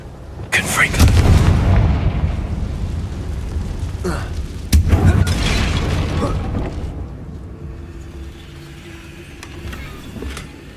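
A Confringo fire spell explodes in Hogwarts Legacy, with two sharp, loud blasts a few seconds apart, each followed by a rumbling low tail that slowly fades into quieter game ambience.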